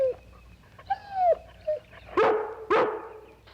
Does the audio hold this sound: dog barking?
yes